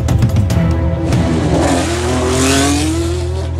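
A new-season Infiniti Red Bull Formula 1 racing car engine revs up hard, its high, whining pitch climbing steadily over a few seconds, loud and close with no talk.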